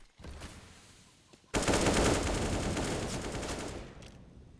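Sustained automatic gunfire from CS:GO players spraying through smoke grenades, a faint burst first, then a loud, dense continuous stream of rapid shots lasting several seconds.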